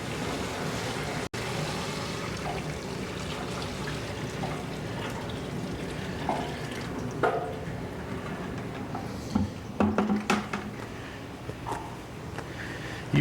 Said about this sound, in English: start adding the water.